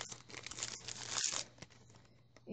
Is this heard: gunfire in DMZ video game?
no